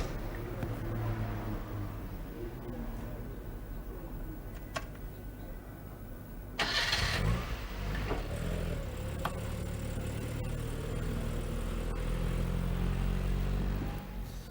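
A Vanden Plas 1500, the Allegro-based luxury saloon, runs with a steady, subdued engine drone and road rumble, a louder broadband swell breaking in midway before the hum settles back.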